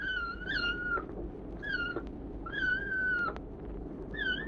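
Small kitten meowing indoors in a grocery shop, several clear high-pitched meows in a repeating rhythm, close and fairly loud over a low steady background hum.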